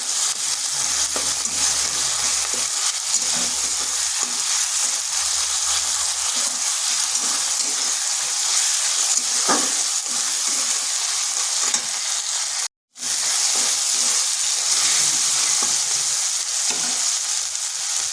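Tomato with a pinch of salt frying in a pan, stirred now and then, a steady close sizzle that continues without a break and with no talking.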